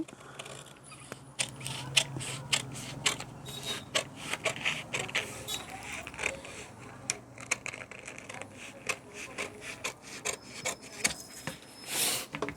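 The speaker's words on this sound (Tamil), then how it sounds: "இப்போ கையை அப்படியே கட் பண்ணிடலாம்" Scissors snip and rasp through fabric while a sleeve is cut in a beginner tailoring class, a quiet run of short irregular cuts with soft rubbing between them.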